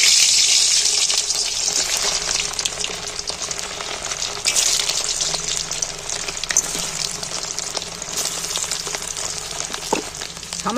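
Whole potatoes fry in very hot mustard oil in a wok, giving a loud, steady, dense sizzle that fills the whole stretch, close up with no one speaking.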